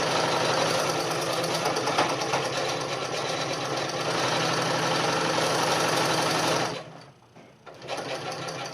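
A sewing machine stitches fabric for a mask in a fast, steady whirring run, loud and close, then stops abruptly near the end before a short restart.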